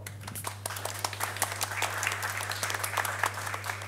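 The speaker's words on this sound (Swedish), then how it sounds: "Jag tycker vi tackar eh, Pernilla och panelen med en applåd." A seated audience applauds a panel after a discussion on regional productivity, a steady round of clapping of moderate loudness over a low constant electrical hum, lasting about four seconds.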